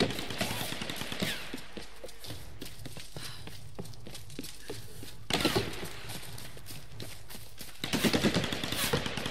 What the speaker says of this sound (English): Let's use the shotgun, man.